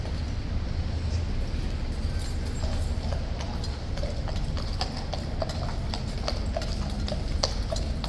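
A horse's hooves clip-clop steadily on hard ground at Horse Guards in London, a continuous close rhythm of sharp knocks over ambient outdoor noise.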